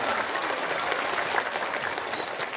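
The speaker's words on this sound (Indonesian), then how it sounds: "Tepuk tangan untuk Indramayu." An audience at a religious gathering applauds for Indramayu, giving a dense and steady wash of clapping from many hands that lasts the whole moment and sits at a moderate distance.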